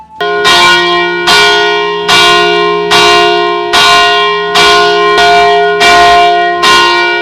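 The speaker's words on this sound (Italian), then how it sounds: "le campane sono fatte apposta per propagare il suono in lontananza" A large church bell in Reggio Emilia tolls loudly and steadily, about ten evenly spaced strikes, each ringing on with a rich, lingering hum.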